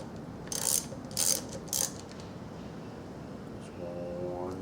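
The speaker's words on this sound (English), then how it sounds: "Need my wrench again." A ratchet wrench clicks in three short, close bursts while loosening a nut during car intake removal, followed by a quiet stretch and a faint hum, with a person speaking softly near the end.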